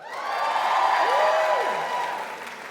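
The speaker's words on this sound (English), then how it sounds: "can I hear an even louder applause if you graduated debt-free? Let's hear that" Graduates at a college graduation ceremony applaud and cheer loudly in a large crowd, with a rising and falling whoop or whistle in the middle. The sustained roar tapers off over a few seconds.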